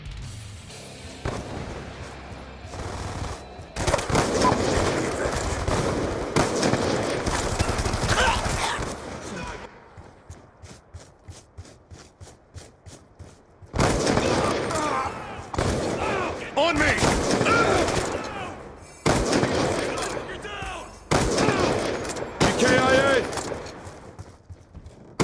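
Bursts of rapid gunfire and blasts in a team deathmatch video game, coming in dense loud volleys separated by quieter gaps, with game sound effects throughout.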